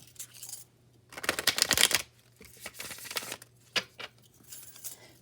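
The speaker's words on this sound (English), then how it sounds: "it is a thing to just tune in to listen to the shuffling" Tarot cards are shuffled in brisk, crackling bursts, one dense flurry followed by lighter riffles and taps, close up and without speech.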